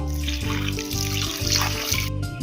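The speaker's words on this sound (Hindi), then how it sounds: "तो सबसे पहले हम आधा गिलास पानी डालेंगे" Half a glass of water poured into a cooking pot while making spring rolls, a steady splashing trickle lasting a couple of seconds over a constant tonal hum in the background.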